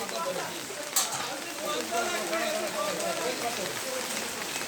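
Steady rain pattering on surfaces at a fish market on a wet day, a dense, continuous hiss of drops with a brief louder splash early on.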